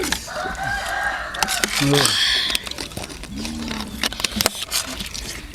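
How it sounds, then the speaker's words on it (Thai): A rooster crows outdoors in cool post-rain air, with a long call early on and another shorter crow later, fairly close, while people talk over and around it. "ไก่"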